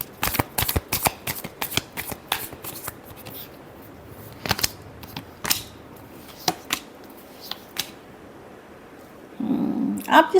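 Tarot cards are riffled and shuffled in rapid, crisp bursts of flapping and snapping, pausing and resuming several times close up, with a brief rustle near the end.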